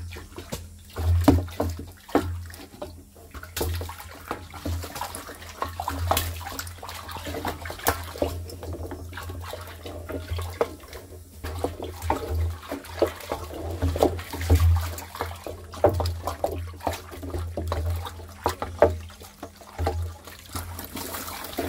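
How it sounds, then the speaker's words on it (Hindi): Water pours and trickles into a container of jivamrit mixture made from cow dung, jaggery, gram flour and soil while it is stirred, a steady low splashing with intermittent sloshes and clunks and no talk. "फिर हम इसको पानी से भर देते हैं और पूरे टाइम इसको हम घुमाते रहेंगे।"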